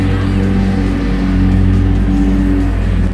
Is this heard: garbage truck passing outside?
yes